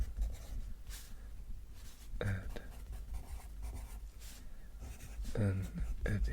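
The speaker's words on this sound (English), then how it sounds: "Let's write down Ed," A pen scratching on paper while cartoon characters are drawn from memory, with soft strokes and scribbles running under close, quiet talking.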